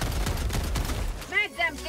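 Breaker shotgun fire in the video game Helldivers 2, a rapid dense run of booming shots followed by a voice speaking, loud and close.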